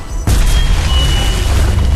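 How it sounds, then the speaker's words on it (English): A tower is destroyed in the Heroes of Newerth game, the blast striking abruptly after a brief quieter moment and continuing as a loud, heavy, rumbling explosion to the end. "The Hellborn have destroyed a Legion tower"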